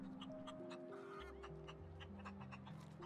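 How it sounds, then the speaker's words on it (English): Chickens clucking in The Outer Worlds video game, a few short clucks scattered over a steady bed of game music and ambience, fairly faint and mid-distance, with no speech. "There are chickens in space?"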